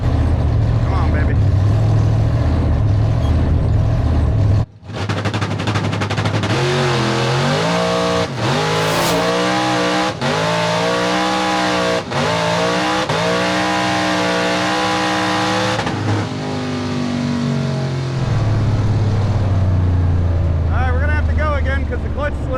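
The drag race car Blasphemi launches at Sick Week after earlier clutch slippage, its engine roaring and rising in pitch through repeated gear changes before fading away, with people talking over the run.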